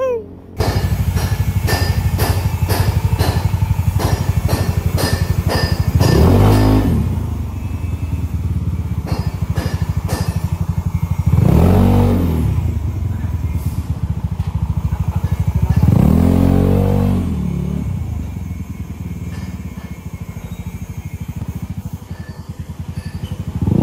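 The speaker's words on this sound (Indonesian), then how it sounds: "kita bawa jalan-jalan dulu buat motor ini, buat ngetes nih motor apakah udah aman bener-bener atau belum" A Yamaha Mio scooter, just repaired after a wiring fault, putters along on a test ride with a steady clattering engine note, accelerating in three distinct surges spaced several seconds apart.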